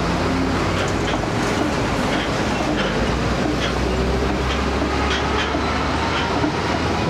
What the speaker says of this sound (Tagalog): Lumalakas, parang basag ang bearing.